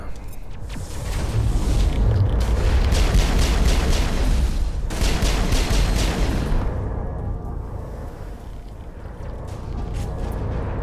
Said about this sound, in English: Close-range rockets.